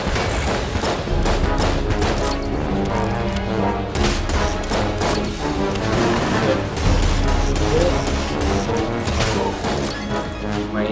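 Rapid, dense bursts of video game gunfire and impacts from Enter the Gungeon crackle and crash continuously throughout, loud and busy, with only faint traces of voices.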